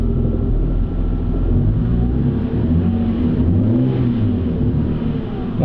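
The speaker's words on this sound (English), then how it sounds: "let's give it a few revs" BMW E90 with N52 engine and performance exhaust revving, a deep, loud rumbling drone with rising and falling pitch swells, close and steady, no talk.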